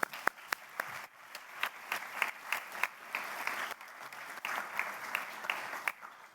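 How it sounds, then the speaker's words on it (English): Audience applause at a Royal College of Physicians new members ceremony, steady clapping from a seated hall with sharp individual claps standing out, moderately loud and continuous throughout. "So can we give them a bit of a clap too?"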